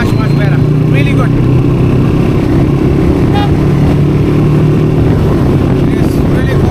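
Suzuki V-Strom 250 motorcycle engine running on a city ride, a loud steady drone with wind rush, close and continuous, with a rider talking over it.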